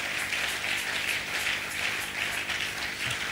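Congregation at a Christmas Day Sunday church service cheering and applauding, a steady dense wash of many hands clapping with no break, fairly loud and filling the room.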